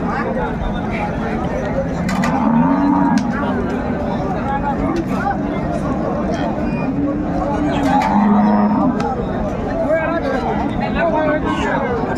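A cow with a calf lows a couple of times amid busy cattle-market chatter, the moos moderately close and partly buried under overlapping voices.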